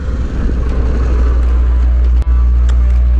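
A 2022 Harley-Davidson Pan America motorcycle rolls slowly onto gravel, its engine a steady, loud low rumble at idle-like pace with faint crunching ticks and one brief dip in the drone.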